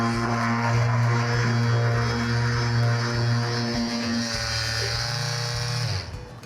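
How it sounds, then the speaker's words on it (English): A car-detailing pad washer spins a rinseless-wash-soaked waxing pad with a steady motor whine and hum, loud and close, running continuously before winding down at the end. "Then, using your pad washer,"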